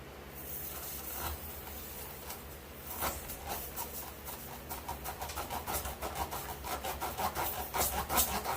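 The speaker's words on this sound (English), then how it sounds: "You just get the rasp, whatever you want to call it, the poker. You gotta stick it in there, clean it out." A steel rasp tool reams and cleans out a tire puncture before plugging. It makes close, scratchy rubbing strokes that start slow and uneven, then turn into a quicker, steady back-and-forth rhythm.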